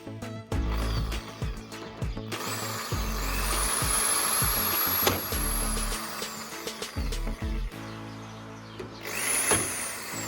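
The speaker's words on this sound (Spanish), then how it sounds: "el siguiente paso con ayuda del taladro es hacerle unos orificios para coserlo con tornillos" A power drill bores screw holes through a workpiece, with repeated bursts of whirring separated by short pauses and loud close knocks and handling clatter.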